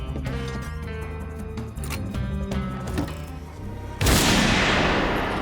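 A single sharp gunshot bursts out near the end, loud and close, cutting across a busy animated action soundtrack of music and effects in the Agent Elvis series.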